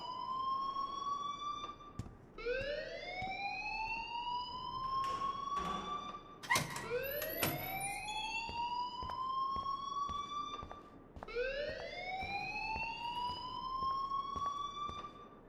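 A school alarm in Life Is Strange wails in repeated rising electronic sweeps, loud and close, with a few dull thumps between cycles and no talking.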